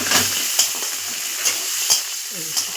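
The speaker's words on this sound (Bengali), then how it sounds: "একটু ভাজা করে" Crushed green chillies and garlic frying in hot oil, giving a bright, steady sizzle close by with occasional stirring clicks and bursts of hissing throughout.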